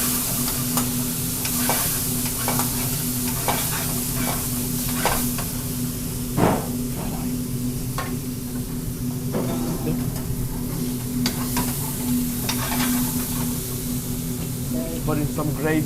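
Lamb curry sizzles and spatters in a pan over a high flame in an Indian restaurant kitchen, with a continuous frying hiss, repeated scraping stirs, a steady low burner roar and occasional voices in the background.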